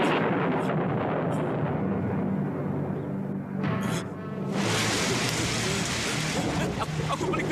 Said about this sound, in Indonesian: Aku paling benci hujan.